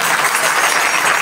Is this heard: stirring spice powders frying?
no